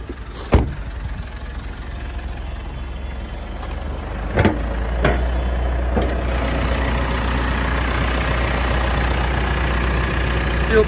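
A 2020 Mitsubishi Triton GSR 4x4 engine idles steadily with a low, even hum, interrupted by a few sharp clicks or knocks near the start and middle.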